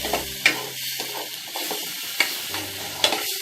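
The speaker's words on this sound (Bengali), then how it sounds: "এরপর হচ্ছে এটাকে নেড়ে চেড়ে মিশিয়ে নেওয়া হচ্ছে" Spoon stirring cinnamon sticks and bay leaves in a hot pan for polau dal, a soft scraping sizzle with three sharp clinks against the metal, close and steady, with no voices.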